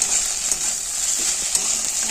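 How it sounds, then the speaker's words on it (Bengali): Okra and potatoes stir-fry in a pan with a constant bright sizzle. Scattered spatula taps and scrapes sound up close, with no voices. "ভাজতে হয় এরকম নেড়ে ফেড়ে ভাজতেই থাকবো"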